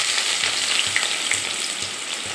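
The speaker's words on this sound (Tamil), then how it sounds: "கடுகு நல்லா பொரிஞ்சிருச்சுங்க" Steady, dense sizzle of seeds popping and spluttering in hot oil, with quick crackles scattered throughout and no voices.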